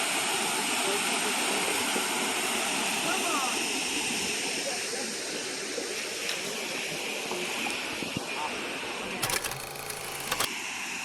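Stuyvesant Falls, a hydropower waterfall where water spills off rocks, roars as a steady broadband rush throughout, with a few brief clatters near the end and no talk.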